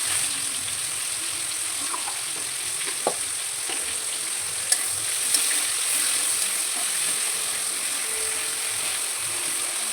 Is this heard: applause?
no